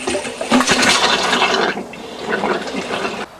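Cold water gushes from a touring caravan tap once the lever is released, a steady broadband rush with a brief dip partway through before flowing again, close and fairly loud with no talk.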